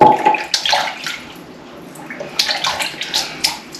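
Tap water runs into a sink in a steady close splashing stream, uneven and bubbly as hands move under it, with no talk.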